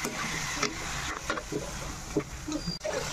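Garlic, onion and ginger sautéing in a pan: a continuous sizzle with scattered scrapes and knocks from stirring, moderately close, with no talking.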